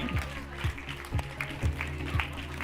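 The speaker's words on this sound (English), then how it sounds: "So, round of applause," An audience at the Nordic Women in Tech Awards 2025 applauds from the floor, moderate clapping and a few cheers under an amplified voice and thumping music on stage.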